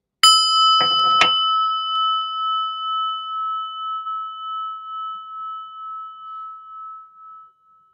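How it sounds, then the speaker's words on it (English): A prayer bell is struck once, then twice in close succession, and its clear metallic ring hangs alone in silence, slowly decaying over several seconds. "listen to the prayer bell."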